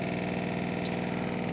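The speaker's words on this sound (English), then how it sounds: "Much better running motor." A Bedini motor runs with a steady, even mechanical whir and a faint regular pulsing, constant and fairly quiet throughout.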